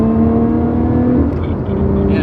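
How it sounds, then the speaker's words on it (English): A 2021 Lotus Evora GT's exhaust drones loudly from inside the car while driving, a strong low engine hum that shifts in pitch as it accelerates, close and continuous. "this exhaust sounds insane"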